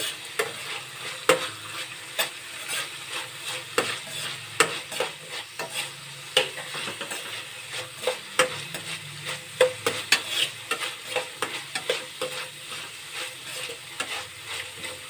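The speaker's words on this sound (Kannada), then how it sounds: "ಒಂದು ಎರಡು ನಿಮಿಷಗಳ ಕಾಲ ಈ ಥರ ಮಿಕ್ಸ್ ಮಾಡ್ಕೊಂಡ್ರೆ ಸಾಕು" A spoon scrapes and stirs avalakki puliyogare mix in a hot pan, with rapid irregular clinks and scrapes over a soft sizzle, close and fairly loud, with no voices.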